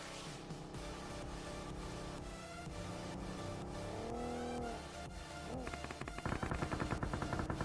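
In the mobile battle royale game BGMI, a vehicle engine drones and builds as it approaches, mixed with rapid bursts of gunfire and game effects that grow denser and more rhythmic toward the end.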